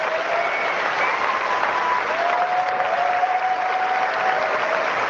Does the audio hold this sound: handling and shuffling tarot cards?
no